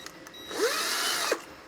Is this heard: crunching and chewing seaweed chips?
no